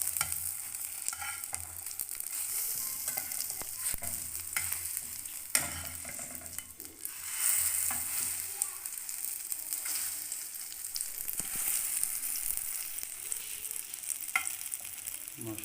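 Shami tikki patties fry in a pan with a soft, continuous sizzle and crackle, punctuated by occasional scrapes and stirring clicks, fairly quiet and close.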